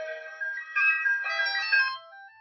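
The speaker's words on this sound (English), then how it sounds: "Oh, it's my phone." A phone ringtone plays indoors, a short melodic electronic tune with several bright tones rising and falling, clear and unaccompanied.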